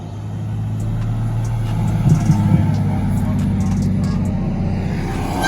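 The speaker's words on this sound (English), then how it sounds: "Oh, that's a supercharged Audi. I heard it." A supercharged Audi engine at a muscle-car event rumbles steadily with a low droning growl, rising slightly in the middle, while faint voices and crowd noise sit in the background.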